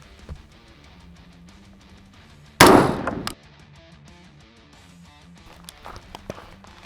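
A single sharp, loud rifle shot fires an XM193 round into an Agilite Raider body armor plate, a sudden blast that decays within a second over quiet outdoor background.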